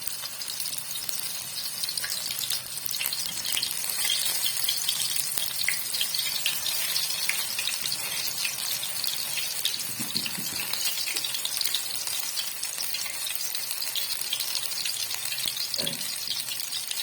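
Ghee heats in a kadhai over a low flame before masala fish is fried, giving a continuous soft hiss and light crackle at a steady moderate level, with no talking.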